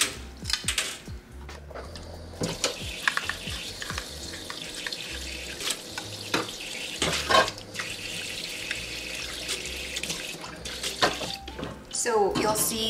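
Water poured into a cloth strainer while potting plants, a steady splashing trickle that runs for several seconds with a few louder gushes and clunks near the end.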